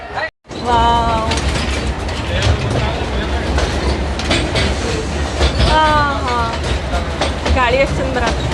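A small park ride train at Sayajiraje Water Park in Akluj rumbles along with rhythmic wheel clatter and occasional squeals, loud and close from aboard, while passengers talk over it.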